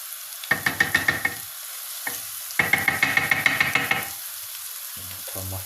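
Garlic, spices and tomato paste sizzle in a pan, heard as bursts of rapid scraping stir strokes with a quiet frying hiss between them, several separate rounds of stirring close by.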